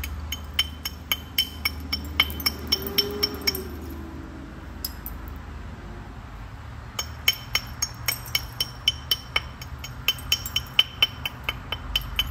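Solid copper-head billet striking dense Georgia jasper during flint-knapping: a string of sharp, bright clinks and taps, close and fairly loud, coming in two clusters separated by a quieter stretch, with the later strikes quicker and more regular.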